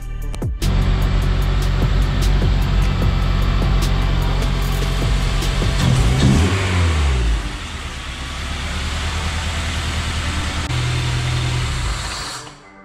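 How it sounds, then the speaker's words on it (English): An Acura RSX DC5 engine fires up after a new intake manifold install and runs loudly, revving at first, then settling into a steady idle close to the microphone with no talking. "So I'm gonna prime it and hopefully it'll start."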